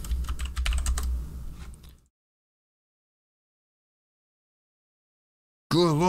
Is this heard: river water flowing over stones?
no